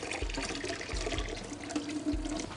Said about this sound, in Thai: เราก็จะดู กุ้งแห้งเราที่อืดน้ำเป็นสี ขุ่นๆนนิดนึงแล้วตัวเนื้อกุ้งครับ ผมก็เอาน้ำออก